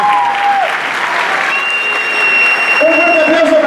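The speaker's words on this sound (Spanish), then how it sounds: "Un fuerte aplauso para ella" Audience at a choreography dance show applauding a dancer, continuous loud clapping with a short whistle or cheer over it.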